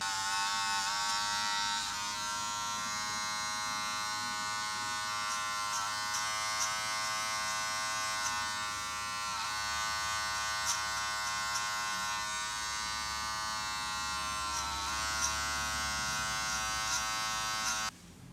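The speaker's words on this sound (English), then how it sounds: "just slowly keep decreasing the lever until you can hear the hair coming off" Electric hair clippers buzz continuously up close during a self-cut fade, their whine wavering slightly as they pass through hair.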